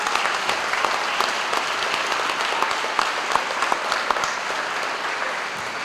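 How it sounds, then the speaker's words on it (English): An audience at an elementary school ribbon cutting ceremony claps steadily, giving dense, sustained applause that holds at an even level throughout, with no talking over it. "So a big round of applause for him"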